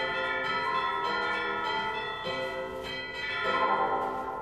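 Computer-modelled church bell peal built from an adjusted score, with several bells ringing in overlapping strikes, a sustained metallic shimmer at moderate level, heard alone.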